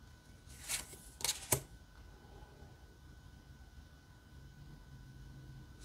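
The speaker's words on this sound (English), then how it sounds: "let's see how it shuffles" A tarot card deck is shuffled in three quick riffles, crisp and close, followed by faint room quiet.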